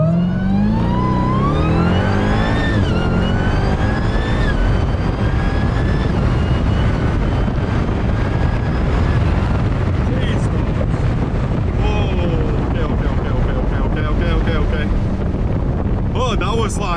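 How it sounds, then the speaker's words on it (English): A 1000-horsepower Dodge Durango Hellcat SUV launching at a drag strip, engine roaring loudly and rising through the gears with sharp shifts, heavy wind buffeting throughout, up close from inside the cabin. "Let's just do a launch real quick, see what it does"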